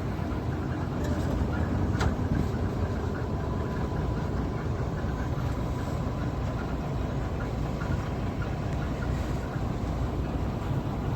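An engine labours steadily uphill in second gear on a hilly climb, a loud continuous low rumble with wind noise and no break in the drone.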